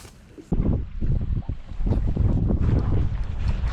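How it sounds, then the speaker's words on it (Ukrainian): Strong gusty wind buffets the microphone in a loud, steady roar with low rumbling bursts, over an open reservoir. "роздувся вітер"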